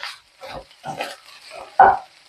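Lemon rice being stirred in a pressure cooker pan, a few separate scraping and shuffling strokes with a louder, sharper scrape near the end, close by and fairly quiet.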